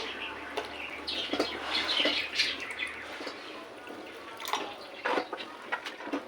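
Water pours into a cooking pot of Karnataka-style bisi bele bath, a steady splashing wash with scattered drips and clinks, fairly close, with faint chirping behind.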